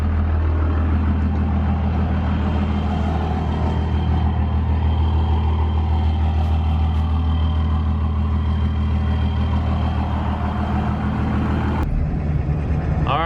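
A Cummins 12 valve diesel truck engine idling as it warms up, a loud, steady low rumble with a constant clattering drone, close by, shifting slightly near the end.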